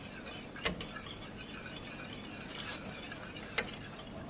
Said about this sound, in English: we're going to stir in 1 teaspoon of vanilla flavoring